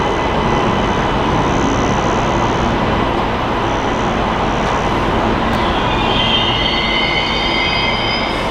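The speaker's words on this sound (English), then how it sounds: "we just missed the train, mate. There it is down there." A train passes below a Brisbane Airport plane-spotting spot, its steady loud rumble and rolling wagons filling the whole stretch, with squealing wheels rising near the end.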